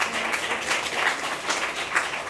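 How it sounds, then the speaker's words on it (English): A conference audience claps together in a brief burst of applause, dense and steady throughout, filling the room at moderate volume with no speech over it. "can you just give a clap for their heart to encourage them?"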